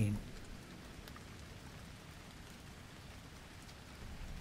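Steady rain falls in a dense, even patter across the whole stretch, a continuous outdoor wash of drops on surfaces with no talk over it.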